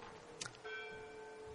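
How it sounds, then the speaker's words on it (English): Church bells ring during a communion service, a faint steady tone with a short bright strike early on, sustained and distant in a quiet room. "When the bells are done ringing"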